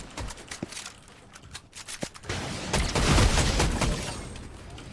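Gunfire in a first-person shooter video game: scattered sharp shots early, then a dense, loud burst of sustained firing and rumble, with no voices.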